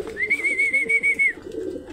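A pigeon coos at a loft, a clear sustained whistle-like call over low burbling coos, close and fairly loud, ending in quieter rustling.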